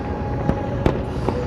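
London New Year's fireworks, a few sharp distant bangs and crackles popping over a steady roar of crowd and city ambience.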